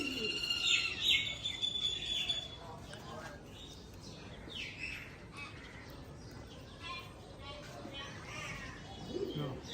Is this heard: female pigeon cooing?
yes